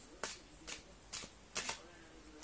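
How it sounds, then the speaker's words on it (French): Playing cards being riffled and shuffled, four short crisp bursts of flicking card edges in a quiet room, fairly soft and close, with no talking. "je vais mélanger le paquet."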